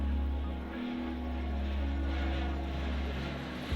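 A steady, droning engine hum of a low-flying crop-dusting spray plane over East Africa, sent against a locust swarm, continuous and fairly loud throughout.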